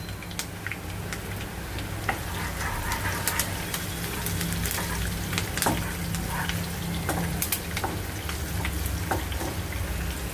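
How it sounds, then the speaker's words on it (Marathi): Garlic and curry leaves frying in a pan for a spicy dry clam masala, giving a dense, continuous crackling sizzle with scattered sharp pops and spits, close up, with no talking. "आता आपलं लसूण होत आलं आहे आणि कढीपत्ता पण झालेला आहे"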